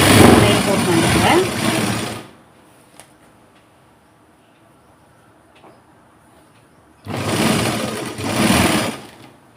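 A sewing machine stitching a blouse runs in two loud, fast-whirring bursts, about two seconds each, separated by a quiet pause of faint handling noise.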